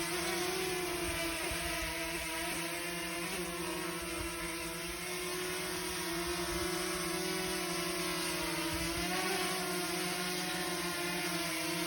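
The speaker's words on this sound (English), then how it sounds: "So this is Marc's first flight of the drone." Small DJI Mini Mavic drone flying overhead on its first flight, a loud, steady high-pitched propeller whine with a tonal buzz that holds throughout and shifts pitch only slightly.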